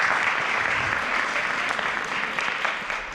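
An audience at an elementary school young writers' evening claps together in loud, dense applause that holds steady and then tapers a little toward the end.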